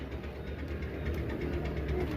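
A motorcycle engine idles close by with a steady low rumble and rhythmic knocking throb, loud and continuous, no talking.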